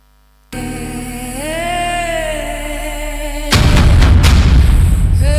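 A gunshot in the Hindi action film Baaghi 4 comes as a sudden loud, sharp blast after a sustained tonal music bed, then booms and rings out to the end.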